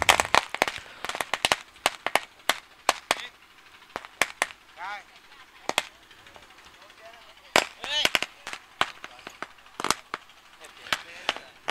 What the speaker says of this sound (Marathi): फटाक्यांचा कडकडाट टाळ्या वाजवत राहा.